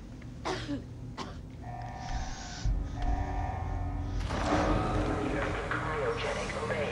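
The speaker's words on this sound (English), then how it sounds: "Smoker's cough." A character in Fallout 4 gives a smoker's cough, heard as a few short rough bursts early on over game ambience and music, later joined by a denser rumbling mix.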